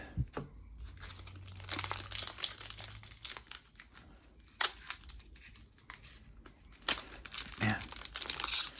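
A Pokémon card booster pack from a Vivid Voltage Elite Trainer Box is torn and crinkled open by hand in close, repeated bursts of foil rustling and ripping, while someone talks over it.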